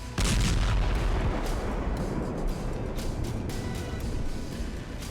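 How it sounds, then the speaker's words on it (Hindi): Bomb blasts bring down a multi-storey building in a Gaza war zone, heard as a heavy, sustained low rumble with a deep boom at the start and rolling debris noise that continues without pause. "बम धमाके से भर भरा कर ढहती बहुमंजिला इमारत"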